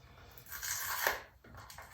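A wrapped guitar body with purple back and sides and a walnut stripe is unwrapped, giving a close, fairly quiet rustle and tear of wrapping that swells and then trails off into short crinkles.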